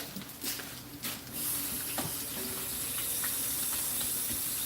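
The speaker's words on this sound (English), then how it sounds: "I'm gonna wash my hands right quick." Hands are washed under a running kitchen tap, a steady close stream of water with a few splashes and rubbing sounds, no talk.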